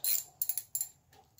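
Ratcheting socket wrench working a bolt on an outboard boat engine with the cowling removed: three short bursts of quick clicking, close and fairly quiet, with brief pauses between.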